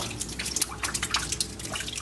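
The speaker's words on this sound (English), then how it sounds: "An industrial bin catching water from a leaking ceiling." Water drips rapidly from a leaking hospital ceiling into an industrial bin, a dense patter of close, splashy drops falling in an uneven rhythm.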